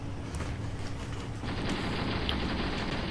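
Gunfire sounds during an armored assault in a Graviteam Tactics battle set in the Soviet invasion of Afghanistan, with dense rapid bursts over a rumbling battlefield that grow louder and fuller halfway through.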